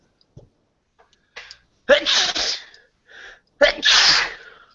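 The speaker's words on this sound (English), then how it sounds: "I'm about to sneeze." A loud, close sneeze: soft sniffs build up, then a forceful breathy burst, followed by a second sharp burst a moment later.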